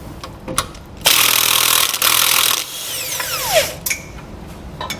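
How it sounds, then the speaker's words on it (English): A power tool spins off brake assembly bolts with a 3/4 inch socket on a 2019 CrossRoads Redwood fifth wheel, giving a loud close burst of whirring and rattling, then a second shorter run and winding-down whine. "We're going to use a 3/4 inch socket to remove them"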